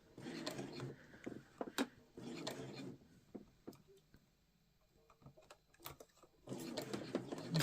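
A sewing machine stitches past the end of a zipper tab on a fabric cosmetic pouch, in short bursts of quiet rapid whirring separated by pauses, a few clicks and light handling noises, close and soft.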